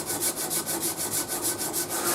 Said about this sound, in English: So it's just hand sanding from here on in